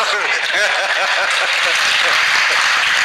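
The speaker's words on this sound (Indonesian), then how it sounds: "Tepuk tangan, Bo." Audience applause at a pesantren lecture by a Muslim cleric, a steady dense wash of clapping filling the clip, with voices and faint chuckles woven through it.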